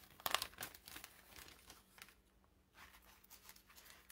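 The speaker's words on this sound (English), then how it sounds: "So we're taking the plastic off" Thin plastic wrap being peeled and pulled off a new diamond painting kit, a close, quiet run of crinkling and rustling with a sharper crackle near the start and softer scattered crinkles after, no talking.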